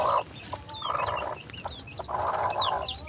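Chickens cluck in a quick series of short, close calls, with a few higher squawking notes mixed in, clearly audible without talk.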